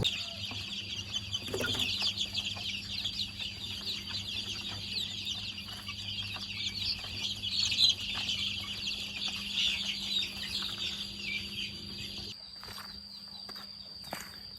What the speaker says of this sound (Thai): ได้ยินเสียงเป็ดเสียงไก่